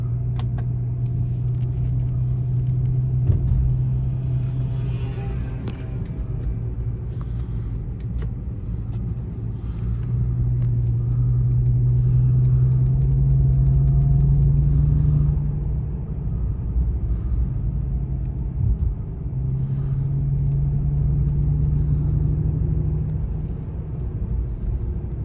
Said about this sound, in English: Car runs and drives quite well